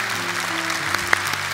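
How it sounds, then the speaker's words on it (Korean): A church congregation gives steady applause, a dense wash of many hands clapping in a large room with a low sustained tone underneath and a sharp clap standing out near the end. "여러분들이 큰 박수로 축복해 주시면 힘이 될 것 같아요."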